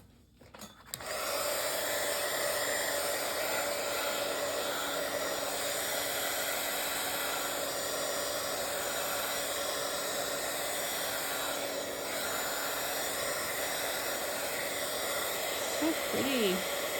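A hair dryer or heat tool runs steadily, drying a wet painted Bible journal page with a constant close, loud whooshing hiss that starts after a second and continues unbroken.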